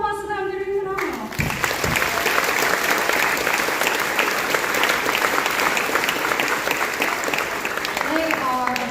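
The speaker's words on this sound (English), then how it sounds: "round of applause to them" An audience at a school band concert for grades 5 to 12 bursts into sustained, dense applause for the student musicians, loud and continuous for several seconds, with a voice over a tone before it starts and talk resuming at the end.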